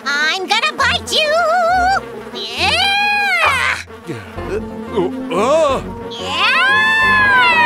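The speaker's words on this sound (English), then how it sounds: "mosquitoes are so annoying." A high, whining insect buzz rises and falls in pitch, mixed with bright playful voices and squeaks, loud and close.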